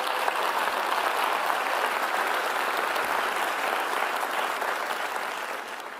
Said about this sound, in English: A round of applause, please, to welcome everyone.